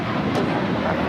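A jet airliner takes off at Los Angeles airport, a broad, steady engine roar for a brief moment, heard from a distance.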